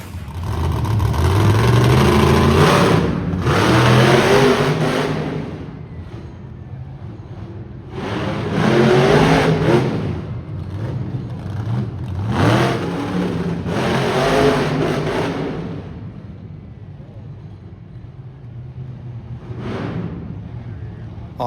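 A monster truck engine roars and revs in long surging bursts at the Ram Motorsports Spectacular best trick competition in Saskatoon, loud and rising and falling, with crowd noise and an announcer's voice heard now and then.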